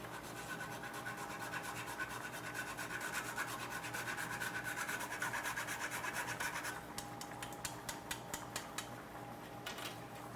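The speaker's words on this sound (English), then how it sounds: "Here's another trick that I like to do is some nutmeg. And I'm just gonna grate that right on top of this bowl here." Nutmeg is grated over a bowl in a quiet, steady rasping rub close by, changing to separate rhythmic strokes toward the end.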